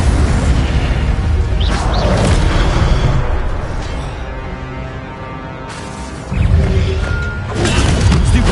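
Loud crashing, whooshing blasts from the Incendio fire spell in Hogwarts Legacy, one burst trailing off into a quieter stretch before another fiery surge erupts, with no talking.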